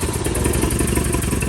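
A long-abandoned 1975 Chevy Vega Cosworth twin-cam engine, after sitting for about 20 years, grinds and churns on the starter with a steady, loud, close rumble and uneven thumping clatter throughout.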